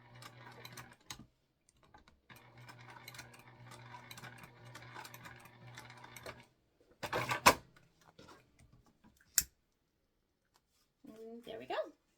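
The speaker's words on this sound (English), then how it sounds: "we're just top stitching around this" A sewing machine top stitches a sling bag in a steady run of rapid stitching for several seconds. A pause follows, then a few clunks of handling, with a voice faintly heard near the end.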